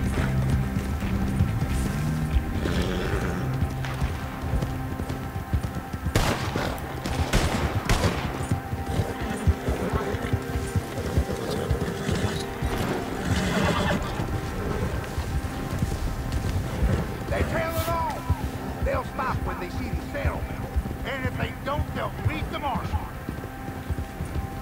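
A horse in the Red Dead Redemption 2 video game galloping with continuous clip-clop hoofbeats amid bursts of gunfire and an occasional neigh, loud and busy throughout, with someone talking over it.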